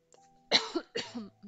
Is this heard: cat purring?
no